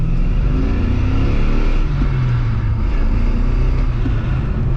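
A Holden VY SS Commodore V8 with about 400,000 km pulls away under throttle, its deep engine roar rising and falling loudly and steadily with the windows down.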